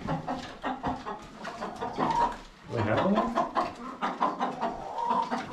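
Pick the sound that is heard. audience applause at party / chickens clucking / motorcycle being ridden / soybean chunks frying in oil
chickens clucking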